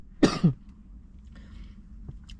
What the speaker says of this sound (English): I've been coughing up my lungs for the past 8 days.